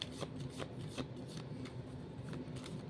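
Tarot cards handled and shuffled up close, a steady rustling, sliding texture with light repeated flicks running for the whole few seconds, no voices.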